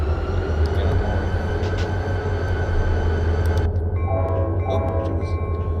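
A freight train rumbles past in the Run8 train simulator, a Conrail locomotive leading, with a steady loud low roar of engines and wheels throughout and brighter tonal horn-like notes near the end.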